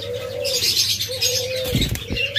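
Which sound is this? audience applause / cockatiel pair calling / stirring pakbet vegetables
cockatiel pair calling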